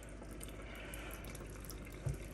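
Water runs steadily from a tap in a tiny home cabin during freezing weather, a constant close hiss with no voices.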